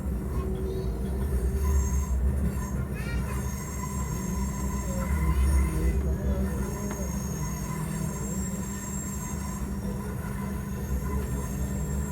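A train rumbles through Pune Junction railway station with a low steady roar, faint wheel squeals and high metallic tones overhead, heard continuously from nearby with no clear speech.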